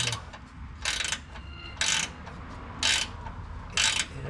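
A wrench cranking a screw during a winch install on a Toyota Tundra, four bursts of rapid ratcheting clicks at a steady pace, close up, with a low background hum between strokes.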